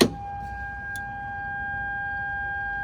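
A steady high electronic tone from a Chevrolet Prizm/Toyota Corolla (E110) lights-on warning chime rings continuously after a brief door-opening click, holding at an even level throughout.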